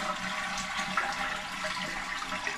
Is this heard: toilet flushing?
yes